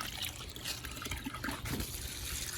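Water runs from a hose into a bucket being filled to soak crawfish, a steady close trickling and splashing pour that continues without a break.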